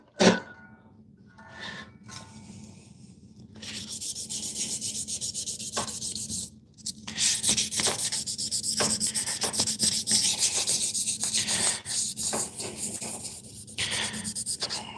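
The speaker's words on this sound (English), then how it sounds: "My hands are just about done with the sanding." Sandpaper is rubbed by hand, with fine grit nearing 1200, in loud, close, continuous scratchy strokes that build after a few quieter starts.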